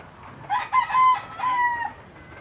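Roosters crow nearby: one long, loud cock-a-doodle-doo rises and falls over about a second and a half, with fainter clucking and crowing behind it and no talk.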